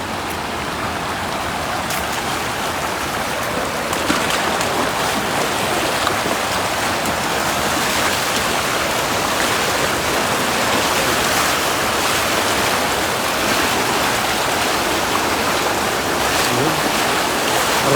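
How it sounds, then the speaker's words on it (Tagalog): Loud, steady rush of water flowing continuously around a small boat on a night fishing trip, a dense broadband roar with no breaks, close and unchanging throughout. "Rumaragas ang tubig ang aming tinatahak"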